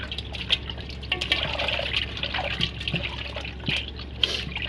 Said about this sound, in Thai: สาวนครพนมสิมาล้างปลาดุกด้วยจ้า